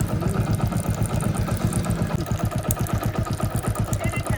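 A motorcycle engine with a clattering fault idles nearby, a steady, loud, even-paced thumping putter that runs the whole time with no talk over it.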